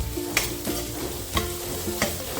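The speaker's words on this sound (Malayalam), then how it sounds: "വെളിച്ചെണ്ണ നന്നായി ചൂടായി അതിലേക്ക് ഒരു സബോള എടുത്ത് വലിയ സബോളയാണ് അത് സബോള ഒന്ന് വാട്ടിയെടുക്കും" Onion sizzles in hot coconut oil, a soft steady frying hiss broken by a few sharp stirring scrapes and clicks of a utensil against the pan.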